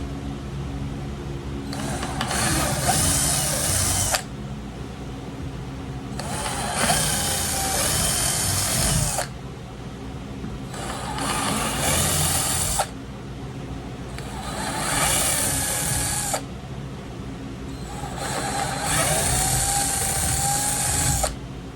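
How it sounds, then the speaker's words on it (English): A power drill fitted with a larger bit bores holes through Kydex sheet in a home shop, five separate loud, high-pitched whining bursts of a few seconds each over a steady low hum, with no talk. "Alright, we're going to go to our bigger bit now. Go ahead and finish out the holes."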